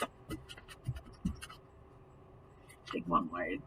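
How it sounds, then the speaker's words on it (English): Tarot cards shuffled by hand, giving a run of soft, scratchy riffling bursts up close during the first half, then a brief murmuring voice near the end. "let's shuffle these up a little bit"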